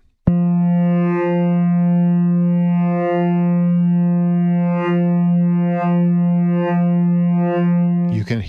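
Drambo Wave Motion wavetable synth playing a sustained buzzy low note whose timbre pulses slowly and rhythmically as the phase speed setting sweeps the wavetable, loud and alone for about eight seconds.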